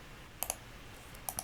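Two pairs of quick, faint mouse clicks, a double tap near the start and another about a second later, highlighting a card in the OCTGN card game Arcane Duels over quiet room tone.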